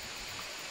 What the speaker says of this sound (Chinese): 我们走到瀑布了哎！